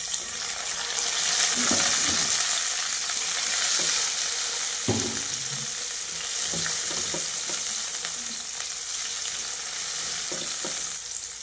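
Chopped tomato goes into onions already sautéing in a pan for a Filipino mixed-vegetable dish, with a steady close frying hiss and occasional stirring scrapes and clinks throughout.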